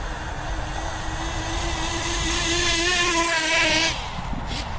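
An OFNA Titan Twin RC car with a turbo engine revs up, its high whining tone climbing steadily in pitch over several seconds before dropping off, loud and close with no talking.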